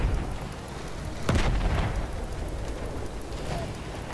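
A cannon shot in Battlefield 1 booms out once, a sharp blast followed by a rumbling tail, set against steady low background noise of the battlefield.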